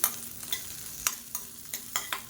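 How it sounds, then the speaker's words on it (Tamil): Green chilies and ginger frying in a pan while being stirred, with sharp, separate scraping strokes of a spoon roughly every half second over a low, quiet sizzle, heard close and with no talk. "இப்போ எல்லாத்தையுமே நல்லா வறுத்துக்கலாம்."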